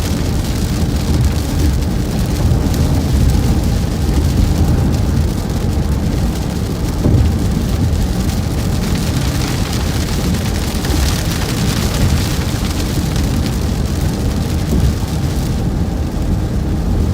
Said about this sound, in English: Rain's still pretty light.